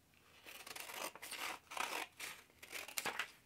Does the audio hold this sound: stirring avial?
no